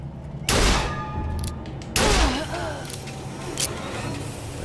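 Two loud gunshot blasts in Bioshock Infinite Remastered, the first about half a second in and the second near two seconds, each followed by ringing rumble.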